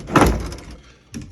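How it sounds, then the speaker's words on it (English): The slide-out drawer of a 1984 Konami Iron Horse arcade cabinet, converted for Berserk, slides shut with a loud near thunk, followed by a second softer knock a moment later. "the slide-out drawer that they used for Berserk"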